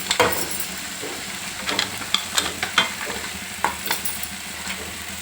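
Spices fry in oil in a pan for a bitter gourd curry: a continuous close sizzle with a spatula scraping and tapping at irregular intervals. No one speaks.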